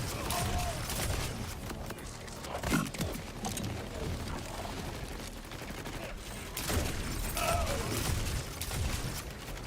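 Borderlands 4 gunfire crackles in dense, sustained volleys against busy game noise, with a few sharper bursts, and a voice comes in faintly underneath.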